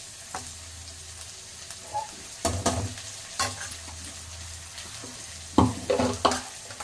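Drumsticks sautéing in a pan, a low steady sizzle with bursts of spatula stirring and scraping at intervals, the loudest cluster near the end, close by with no talking.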